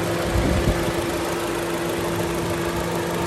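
A 2017 Honda BR-V with automatic transmission idles quietly and evenly, a steady low engine hum with a faint constant whine, close and alone without any talk.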